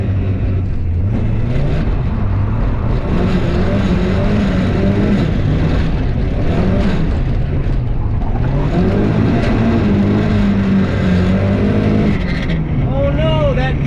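Nissan 240SX drift car on a slick road with new tires, its engine droning and revving steadily up close with tire noise as it swerves, while someone talks over it.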